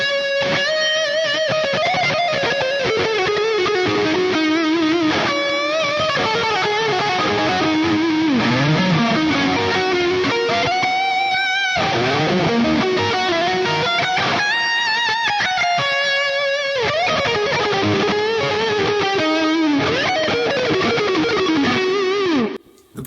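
An ESP Custom Shop electric guitar played through heavy distortion, sustained chords and wailing lead bends ringing loud and continuous with no talking.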